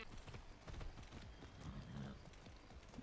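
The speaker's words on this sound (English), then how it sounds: "Oh, what a good horse." Horse galloping in the video game Far Cry 6, a quiet, steady clip-clop of hooves under a dense, noisy game soundscape with no speech.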